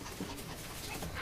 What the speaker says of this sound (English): That is a fucking awesome little dog.